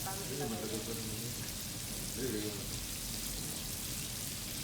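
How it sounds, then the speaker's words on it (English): A pot of Mozambican beef curry stew with carrots simmers, giving a soft, faint bubbling sizzle throughout, with brief speech partly over it. "Yes, now it's simmering good."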